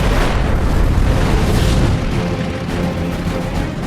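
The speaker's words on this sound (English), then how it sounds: "Riemann quickly lines up behind another Val, opens fire, and explodes the enemy's wing tanks." A Japanese Val aircraft's wing fuel tanks blow apart under fighter gunfire in a loud, continuous roaring burst, heavy and close, with no talk.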